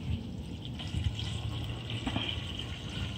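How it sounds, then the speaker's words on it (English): Windshield washer fluid pours into the reservoir of a Volkswagen, a steady close-up liquid trickle and splash with no talking. "you just pour it right here"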